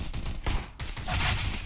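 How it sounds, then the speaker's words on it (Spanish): Rapid gunfire in CS:GO, including bursts from a Tec-9 pistol, crackles in dense overlapping shots throughout the short stretch, loud and close, with no talk. "está metiendo tiros ahí"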